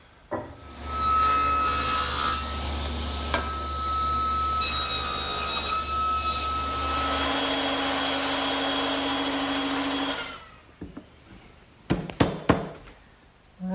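A saw cuts a tenon into the end of a wooden 2x4 bench support, a close, steady rasping of strokes lasting about ten seconds, followed by a few sharp knocks and clatters of wood.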